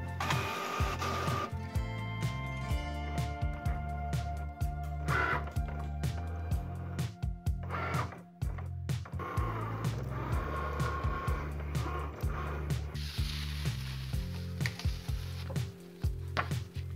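A Cricut cutting machine cuts around a printed shape, its motor whirring and buzzing in repeated pulses and strokes with brief pauses, loud and close throughout.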